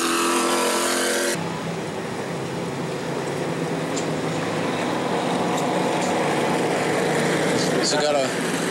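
Sportsman race cars at New Smyrna roar past in a loud, continuous engine drone, with a sharp cut early on and steady revving throughout under a commentator's voice.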